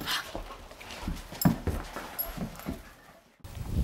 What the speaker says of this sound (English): play with my dog